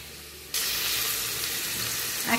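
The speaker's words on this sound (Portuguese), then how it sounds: "Aqui já tem o alho e a cebola dando uma douradinha" Garlic and onion hit hot lard in a pan with a sudden loud sizzle that holds as a steady, close, crackling hiss with no talk.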